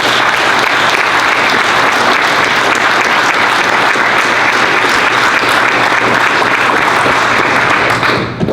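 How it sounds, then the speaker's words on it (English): Sustained, loud audience applause for Danish veterans at a Denmark–America alliance event, steady dense clapping filling the whole stretch before tapering at the very end. "I think we should give them applause already by now."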